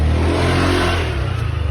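A nearby motorcycle engine idles and revs in a low, throaty drone that swells then settles into a pulsing rumble, heard alone without talk.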